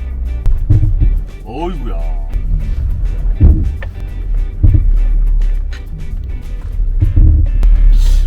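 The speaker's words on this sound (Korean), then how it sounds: "이 물소리가 어디서 나는지 실운전 보고 한번 체크를 해보도록 하겠습니다." Water sloshes inside a Porsche Macan cabin from a clogged sunroof drain while driving and braking, with repeated low surges and splashes under road rumble and a voice.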